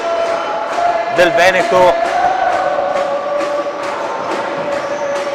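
Veneto football supporters cheer and chant in the stands, a steady stadium roar under an Italian commentator's continuous play-by-play, with a louder surge of voices in the middle.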